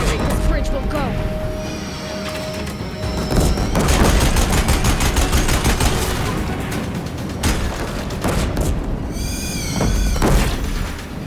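Death Flamers unleash volleys in the video game Horizon Zero Dawn, a dense, continuous barrage of booming blasts and crackling bursts during intense battle, with people talking throughout.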